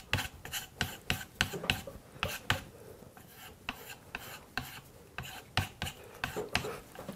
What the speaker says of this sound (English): give it a little bit of stropping